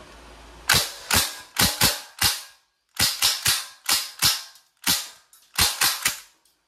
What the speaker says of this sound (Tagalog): KWC submachine air gun.